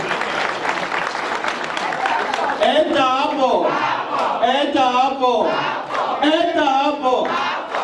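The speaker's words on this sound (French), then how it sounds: "Applaudissez pour eux." Wedding guests clap and cheer in a loud, dense burst, then voices rise in a chanted, sung refrain over continuing crowd noise.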